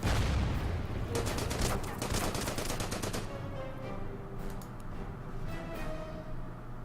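Rapid bursts of gunfire in the wargame Order of Battle: Panzerkrieg at Kursk, a dense clattering volley up front, then scattered sharper shots trailing off at moderate loudness.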